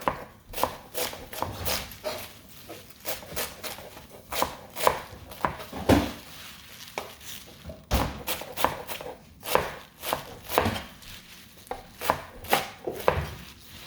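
A knife chops mustard greens into small pieces for saag on a board, in steady, close, rapid thuds that run throughout with brief pauses between bursts.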